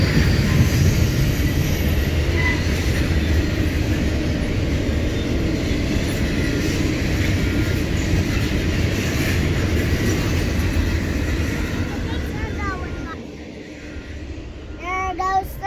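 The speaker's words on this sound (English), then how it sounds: "This train's a lot longer than the first one we saw" A long Norfolk Southern intermodal freight train passes a crossing, a steady loud rumble and rattle of cars rolling by close up, with brief squeals near the end and occasional voices talking over it.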